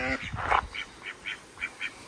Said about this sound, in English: I don't think the duck agrees with me